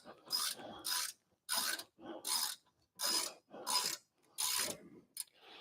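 Wrench loosening a bolt on a Miata steering rack during installation, seven or eight rhythmic ratcheting rasps in quick, evenly spaced strokes, close and fairly quiet, with no talk.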